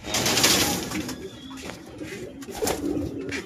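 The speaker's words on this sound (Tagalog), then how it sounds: "paronda muna tayo ng kalapate" Pigeons being released for a flight cooing nearby, with soft repeated coos and a brief flutter of wings over a busy outdoor background.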